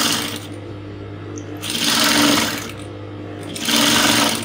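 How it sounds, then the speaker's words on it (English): Sewing machine stitching along the edge of corset fabric, running slowly in two loud, steady whirring bursts separated by a brief quieter pause, close by and with no talk. "So you sew slowly, make sure nothing is packing underneath, to spread it well, and then you sew."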